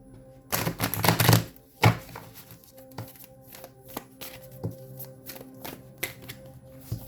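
A deck of tarot cards is shuffled up close, with a loud flurry of riffles at first and then softer, scattered taps and slides of cards. Faint background hum, no talking.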